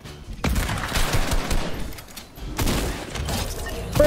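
Gunfire in the video game Fortnite, two dense bursts of rapid shots, one from about half a second and another after a short lull, loud and close, with no voices.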